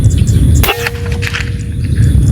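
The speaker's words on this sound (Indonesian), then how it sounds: "itu suara hentakan pas waktu mimis menghentak target" A single sharp metallic clang of an airgun pellet hitting a metal target, followed by a brief ringing tone over low background noise.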